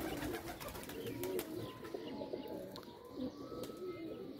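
Jeth pigeons coo repeatedly in soft, low rolling calls, with a busy outdoor background of chirps and faint distant noise.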